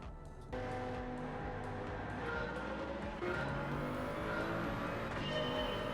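A car engine roars steadily in a racing video game played on a PS5 through a PS VR2 headset, the loud droning revs shifting pitch, with no talk over it.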